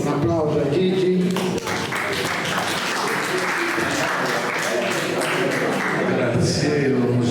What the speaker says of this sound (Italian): diamo a Gigi Angeli de Palau un applauso a Gigi